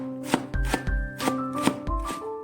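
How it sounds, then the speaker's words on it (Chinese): A kitchen knife slicing radish into thin strips on a cutting board, a rapid series of crisp, sharp knocks falling in a quick uneven rhythm, close and clear with no talk over them. "切片后再改刀切成细丝，尽量切细一些"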